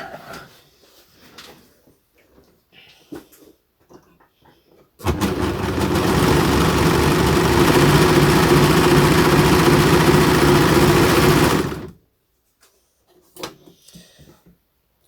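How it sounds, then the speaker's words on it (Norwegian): A sewing machine runs steadily for about seven seconds, overcasting a seam with a zigzag stitch, a dense whirring hum that starts and stops abruptly between quieter handling sounds. "Og så skal du kaste over her, enten med zigzag eller med en overlocker."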